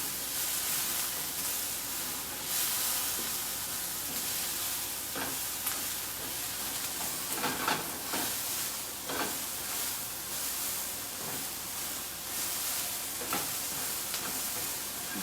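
Onions brown in a pan for a homemade biryani-style dish, giving a faint, steady sizzle and hiss with occasional soft stirring scrapes, and nobody speaks.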